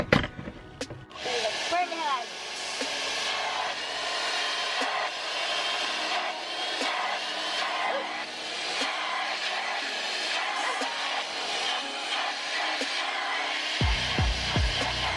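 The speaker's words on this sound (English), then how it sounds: "put the blow dryer to the hair, so I know that it's really secured" A hair dryer set on hot blows with a steady, loud whooshing roar that runs continuously, with faint handling noises over it.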